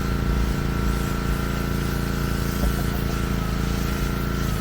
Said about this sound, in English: now we're just giving it a quick spray off